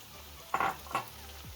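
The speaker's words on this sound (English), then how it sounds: "Fry this off." Portobellini mushrooms sizzle in a pan, a low steady frying hiss broken by two short scraping stirs in quick succession.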